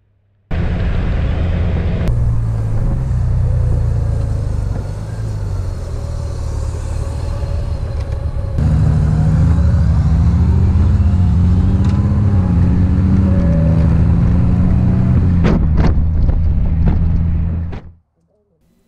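A motorcycle engine drones steadily at close range with road rumble on a ride toward Warm Springs, Georgia, the pitch rising and falling as it shifts gears, then cuts off abruptly at the end.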